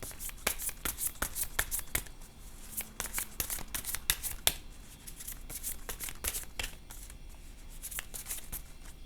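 Tarot cards being shuffled and drawn from the deck, a steady run of crisp, close riffling slaps and snaps heard alone without talk.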